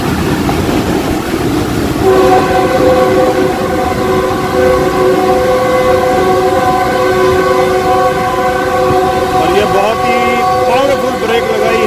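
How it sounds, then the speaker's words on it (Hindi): The Pakistan Express locomotive horn blasts continuously and loudly for several seconds over the rumble of the moving train, then falters and breaks off near the end, while a voice talks over it. "पूरा जोर लगाते हुए कंटिन्यू विसलिंग।"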